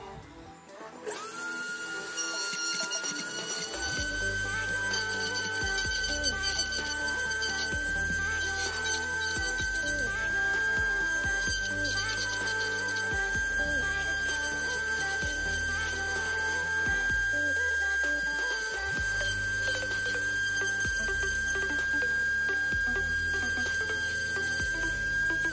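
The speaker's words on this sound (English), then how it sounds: "Okay, so I got this grinder here with this little ball on the end." A small rotary grinder with a ball tip whines steadily at high pitch while grinding a plastic scale-model starship part, the motor loading and easing in repeated short passes, close and continuous.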